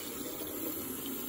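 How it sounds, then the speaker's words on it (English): Continuous gushing of water running steadily, like a tap filling a small container, as a toy water pen is filled, with no voices. "let's fill up the water"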